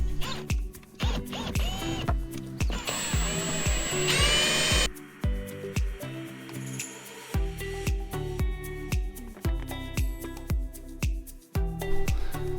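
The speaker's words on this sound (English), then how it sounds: "I just got this step bit. First step, 3/16. You just drill it out." A 3/16 step drill bit bores out the metal strap on a Sea-Doo seat, the drill revving and stopping in repeated close bursts with a high grinding whine as it cuts through.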